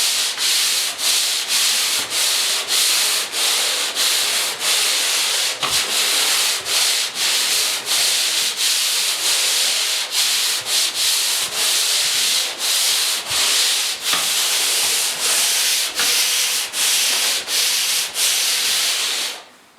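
Drywall joint compound being sanded by hand during a basement bedroom renovation, a steady run of close, loud, scratchy rasping strokes in quick rhythm, continuing without a break for the whole stretch.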